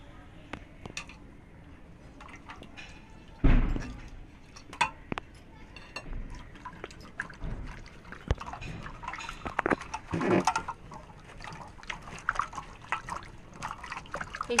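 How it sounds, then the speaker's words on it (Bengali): Whole vegetables being rinsed one by one in water for sabudana pulao, with soft trickling and splashing, a sharp burst of sloshing partway through, and occasional light clinks of a bowl or utensil. "সাবুর পোলাওর জন্য আমি এক এক করে সব সবজিগুলো গোটা ধুয়ে নেব।"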